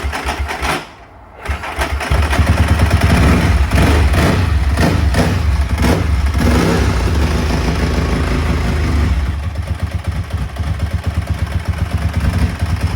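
An old Ducati 999R or MV Agusta F4 1000 motorcycle engine catches after a short silence and settles into a loud, fast, uneven idle on choke, the rumble dipping slightly near the end.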